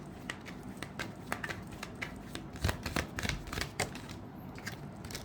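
Tarot cards shuffled close by: a steady run of crisp, riffling flicks and soft slaps at a quick, uneven rhythm, with no talk.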